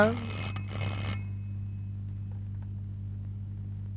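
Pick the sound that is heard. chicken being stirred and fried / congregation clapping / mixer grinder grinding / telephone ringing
telephone ringing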